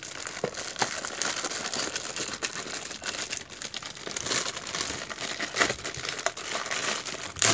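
Plastic packaging crinkles and rustles steadily as a gold-colored front fork shock protector for a Honda CBR, branded OHLINE, is unboxed; the crisp crackling runs close and continuous with brief sharper crunches and no talking.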